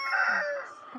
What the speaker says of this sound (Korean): 닭들이 어찌나 재촉하는지 손길을 서두릅니다